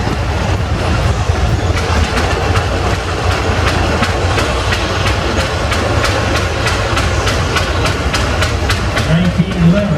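A 1929 Rumely OilPull 40-60 tractor, the largest OilPull built, running in a parade at the Midwest Old Threshers Reunion in Mount Pleasant, Iowa: a loud, steady engine chug with rapid regular clacking beats, while a voice talks over it.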